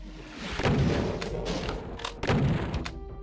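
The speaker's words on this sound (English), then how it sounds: "Let's kill the rest with the super shotgun." A super shotgun fires in the video game Voxel Doom 2, with two heavy, booming blasts about one and a half seconds apart, loud and close, each trailing off into a rumbling tail.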